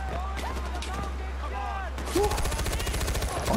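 Fast automatic fire from a high-capacity gun in Far Cry 4 breaks out loud and close partway through, after a stretch of talking with a low hum.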